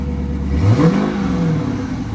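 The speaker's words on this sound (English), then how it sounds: "We're gonna let it run for a second and see if we can get a rev" A Dodge Challenger engine rumbles at idle, then swells into a short, loud rev around the middle before settling back to a steady low idle, close by with no talking.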